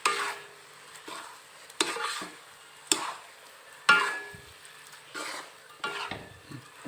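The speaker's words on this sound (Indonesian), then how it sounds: "Nah, yuk kacau, biar rata itu bumbunya." Mie tek tek noodles stirred and tossed in a hot pan with seasoning, a series of sharp scraping, clattering strokes every second or so over a soft sizzle, close and alone without talk.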